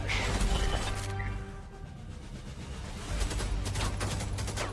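Helldivers 2 gunfire rattles in dense, loud bursts against heavy armor, with crashing impacts, a short lull in the middle, then another volley.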